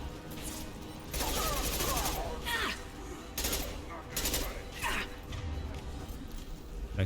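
Bursts of weapon fire in the Mass Effect 2 combat game come in repeated loud volleys, separated by brief gaps, with battle sounds and some voices mixed in.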